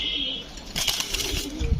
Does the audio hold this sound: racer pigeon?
yes